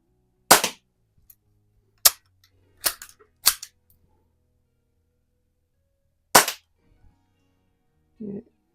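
Air guns, including a Crosman 38C, Daisy Red Ryder and Gamo PR-45, fired outdoors in single sharp cracks spaced a second or more apart, about five shots with a faint clatter near the end.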